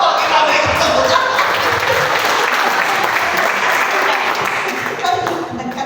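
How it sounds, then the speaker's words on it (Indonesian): A church congregation applauds steadily, a dense wash of clapping close by that holds at full strength throughout, with some voices mixed in. "Oh, kita berikan tepuk tangan."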